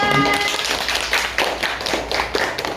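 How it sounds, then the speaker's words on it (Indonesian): A classroom group of primary pupils claps in a short, dense burst of overlapping hand claps, close and fairly loud, that tapers slightly over a few seconds. "Kita berikan aplaus kelompok 3."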